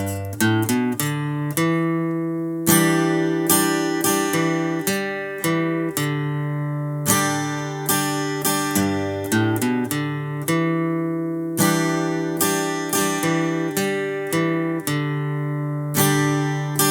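An acoustic guitar strums the chords of a song in a steady rhythm, clear and close, moving through a repeating progression with bright ringing strings.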